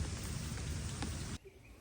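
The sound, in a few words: light rain drizzling outdoors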